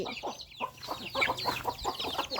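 Chickens clucking in a farmyard at evening feeding time, repeated short clucks close by at a moderate level, with faint bird calls behind and no talk.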